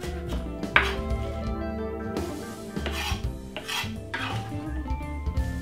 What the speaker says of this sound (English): Just chop it up a little bit.